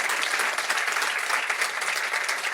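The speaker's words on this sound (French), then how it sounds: "ça applaudit tellement que je t'ai pas entendu, Romain." Dense, continuous audience applause at the Cité de la Voile during a Vendée Globe event, many hands clapping loudly and evenly for the whole moment.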